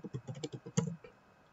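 Password typed on a computer keyboard during an Ubuntu software install: a quick run of about a dozen close, crisp key clicks with one heavier press near the end, then quiet.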